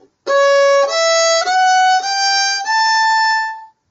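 A solo violin plays a short measure of Bach's Marche as a run of clear, sustained bowed notes stepping through a simple melodic line, close and alone with no other sounds.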